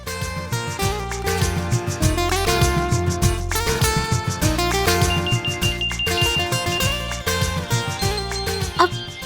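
A loud, melodic phone ringtone plays continuously, its busy electronic tune repeating without pause.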